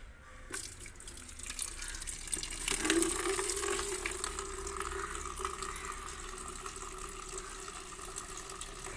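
Water is poured onto plants in a rooftop garden in the morning. A steady gushing, splashing flow starts softly and grows fuller and louder after a few seconds, then keeps going with no talk.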